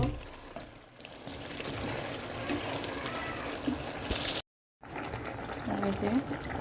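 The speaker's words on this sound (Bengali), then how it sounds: "এখন পানি দিয়ে দেব।" Water pours steadily into a curry pan on a home stove, a continuous splashing rush with a brief dropout midway, under faint background household sounds.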